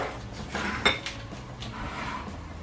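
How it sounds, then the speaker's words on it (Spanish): A microwave-safe mold for flan is handled in a kitchen, giving a quiet clatter of dishware with one sharp clink near the start and softer knocks and scrapes after it. "cogemos el molde que podamos meter en el microondas"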